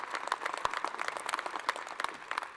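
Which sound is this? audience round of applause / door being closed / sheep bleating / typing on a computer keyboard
audience round of applause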